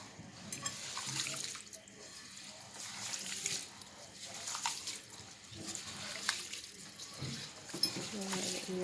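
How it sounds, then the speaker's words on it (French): Water runs from a tap over raw chicken being washed for a peanut-sauce mafé, a fluctuating splashy flow with clatters, under intermittent talking. "Et on rajoute de l'eau."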